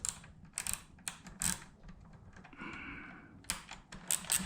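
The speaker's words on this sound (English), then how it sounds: "Now with an ever so slight hint of Loctite, we are going to go ahead and tighten these up." Bolts on a stainless headlight guard bracket for a 2022 Triumph Tiger 900 are tightened with a hand tool, giving quiet, close clicks and short rattling bursts spaced irregularly, with a brief scraping stretch in the middle.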